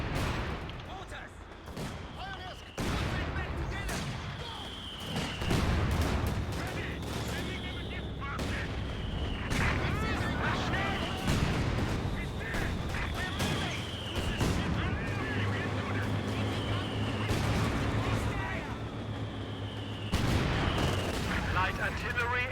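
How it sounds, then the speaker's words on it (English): Mortar and artillery fire in the Company of Heroes 2 game during a 1v1 multiplayer match: repeated loud booming blasts and whistling shells over a constant battle din, with in-game voice callouts mixed in. "Mortars."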